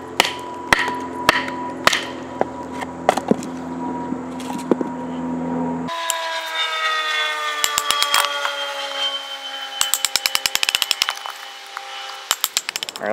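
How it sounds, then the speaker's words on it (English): A FOBOS MKB-9 knife batoned through wood on a riverbank gives a run of sharp, close knocks at an uneven pace. A steady droning engine takes over midway, with a quick burst of clicks near the end. "you could baton with this thing all freaking day long"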